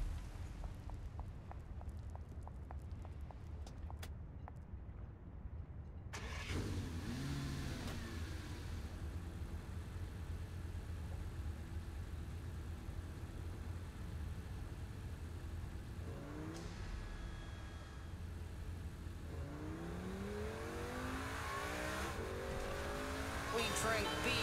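A car in the Saints Row IV video game drives along with a steady engine drone, revving and shifting pitch, while voices talk and sing over it.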